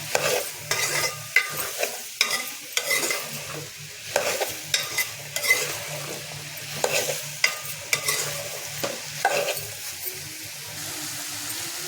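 Ridge gourd pieces stirred in hot oil in a pan, with repeated close scraping strokes of a spoon in an uneven rhythm over a soft continuous sizzle, with no talk.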